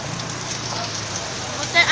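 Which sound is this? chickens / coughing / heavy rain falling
heavy rain falling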